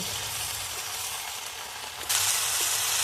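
Steady broadband sizzle of tomato and other vegetables frying in a pan, close and continuous, briefly louder and hissier toward the end.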